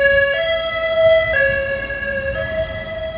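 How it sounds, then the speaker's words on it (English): An ambulance siren sounds on a New York City street, a loud, steady electronic wail with sharp pitch shifts, close by and filling the whole stretch over low traffic rumble. "ambulance"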